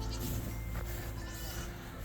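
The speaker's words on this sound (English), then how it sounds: "Piles and piles of goats." Goats in a barnyard give a few faint, wavering bleats over a steady low background hum, with no talking.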